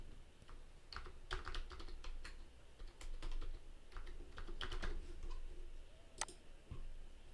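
Typing on a computer keyboard, a faint, close patter of uneven key clicks in short bursts over a soft background hiss, with a few sharper taps standing out and no talk.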